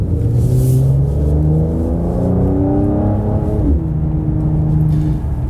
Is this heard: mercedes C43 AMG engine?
yes